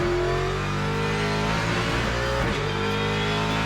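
A Ford Mustang GT3 V8 in the Le Mans Ultimate racing game roars continuously under load, a loud, dense engine drone with steady harmonics and slight pitch shifts as it revs, heard alone without talk.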